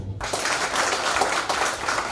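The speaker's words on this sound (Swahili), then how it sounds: "Haya, jipigie makofi." A church congregation applauds in a steady, dense wash of clapping that fills the room without pause.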